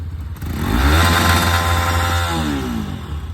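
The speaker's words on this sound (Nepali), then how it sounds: "पछि आउँछ हाम्रो लामा अनि हाम्रो लिलम दोस्तले यता पोल स्टार्ट गरिसक्छ बाइकलाई।" A motorcycle engine fires up and revs close by on a mountain road trip in Nepal, a loud throaty rumble swelling then easing over a few seconds with no voices.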